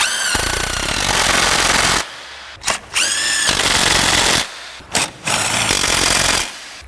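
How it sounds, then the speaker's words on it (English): Hammering bursts of a power impact tool tightening 17mm transmission mount fasteners on a 1991-1996 Acura Legend, three long loud rattling runs broken by short pauses. "And now, we'll tighten these fasteners."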